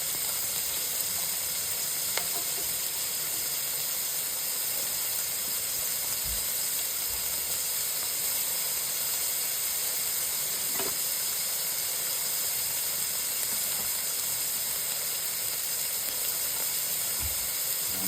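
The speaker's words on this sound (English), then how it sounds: "Just in order for the onions and the garlic to start cooking themselves up pretty good." Onions and garlic sizzle in a pan for shepherd's pie, a steady close hiss running unbroken throughout with a few faint clicks and knocks, no voices.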